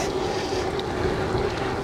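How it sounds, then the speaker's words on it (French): Steady, continuous headwind roar buffets the microphone while riding a gravel bike, with a low rumble and a faint hum, constant in level throughout, with no voices. "Un petit vent de face là qui va bien."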